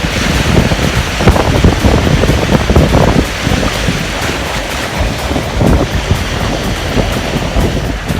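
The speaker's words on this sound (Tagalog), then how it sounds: "ang laki po naman ng alon" Large ocean waves crash and roll onto a beach during seaside net fishing, a loud continuous surf roar with wind buffeting the microphone throughout.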